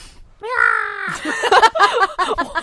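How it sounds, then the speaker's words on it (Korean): A loud, drawn-out bird call rings out once, close and sharp, then people talk over the rest of the moment. "무슨 새소리가 네."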